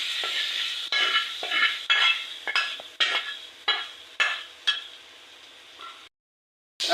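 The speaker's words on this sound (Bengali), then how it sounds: "চিংড়িগুলো শাকের সাথে ভালো করে মাখাই নেবে" A spoon stirs fried shrimp into radish greens in a pan, making rhythmic scraping strokes about once a second over a light sizzle before falling silent.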